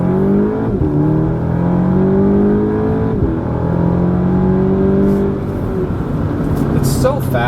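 A 2016 Audi S3 with its factory resonator removed, accelerating hard at full throttle, a loud close engine drone climbing in pitch, dropping sharply at two upshifts, then climbing again, with someone speaking over it.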